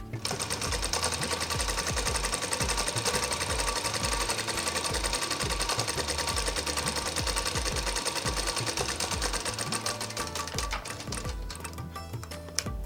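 A sewing machine stitches a kurti seam in a rapid, even mechanical chatter that runs nearly unbroken and close, then eases slightly near the end.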